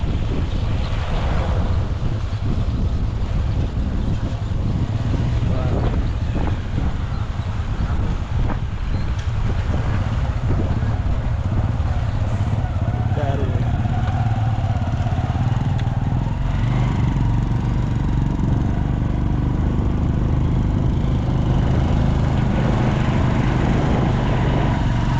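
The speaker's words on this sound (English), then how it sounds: "And for me, I'm on another motorbike." A motorbike ride heard from the seat: steady engine drone mixed with heavy wind buffeting on the microphone throughout, with no talking.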